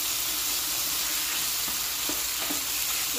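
Chicken for low carb tacos fries in a pan with a loud, constant close-up sizzle and a few faint stirring clicks.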